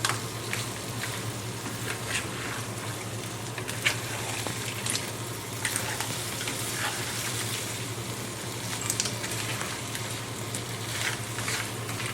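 Seafood paella rice stirred in a wide pan makes a soft, steady sizzle and bubbling hiss with faint scraping. It carries on evenly throughout, close and without talk.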